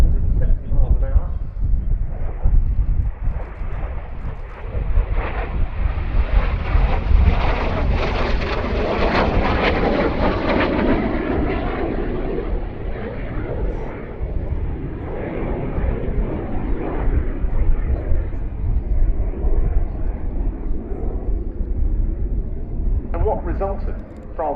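Vintage jet fighters, a de Havilland Vampire FB.II and a Canadair Sabre Mk.6, fly together at a Duxford Battle of Britain air show, with a loud, continuous jet roar that swells to a rushing peak as they pass and then slowly recedes.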